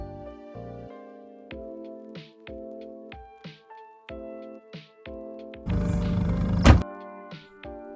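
An INOKIM OX Hero 1 folding electric scooter is loaded into a small car's trunk over background music, with a brief rustling scrape and then one sharp, loud thunk near the end.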